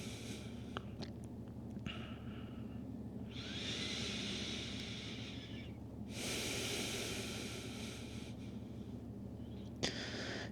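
Slow, deep breaths during a power vinyasa yoga session: long airy inhales and exhales, each lasting a couple of seconds, with a brief sharp intake near the end, heard close and steady over a low room hum.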